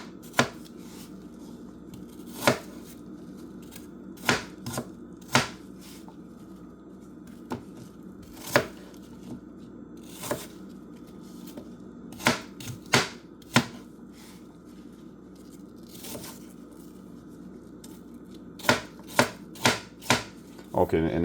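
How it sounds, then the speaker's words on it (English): A knife chops peeled apples into cubes on a cutting board, sharp knocks landing in irregular bursts and clusters over a steady low room hum, with no talking. "Cut it in half. And cut it in half again. Cut it in twos again."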